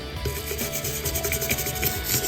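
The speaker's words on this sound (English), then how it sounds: "Then you can take the stiff part and you can just do a little bit of scrubbing." A bathroom sink basin is scrubbed with the stiff side of a sponge and cream cleaner, giving a steady, close, gritty rubbing sound that continues for the whole stretch without pause.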